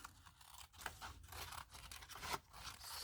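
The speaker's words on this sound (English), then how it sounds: "I kind of cut away from it and wiggled my scissors" Scissors snipping and wiggling through paper in short, crisp crunching strokes, fairly close and steady across the moment with no talking.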